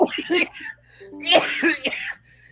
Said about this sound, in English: Not the cough while you're reading.